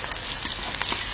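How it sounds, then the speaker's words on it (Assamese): Onions poured into hot oil in a kadai sizzle with a steady bright hiss, close and fairly loud, with faint stirring taps and no talking. "ঢালি দিলো পিঁয়াজ"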